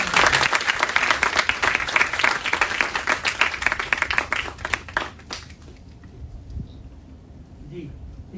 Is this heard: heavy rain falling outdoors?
no